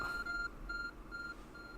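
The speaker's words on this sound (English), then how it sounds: "Our friend is beeping." Repeated short electronic beeps from an item-detecting companion in the video game Pokémon Legends: Arceus, sounding as clear evenly spaced pulses, fairly faint, with no talk over them.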